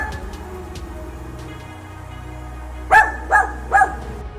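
Three quick barks from a dachshund ring out close and loud near the end, after a stretch of low background hum with no talking.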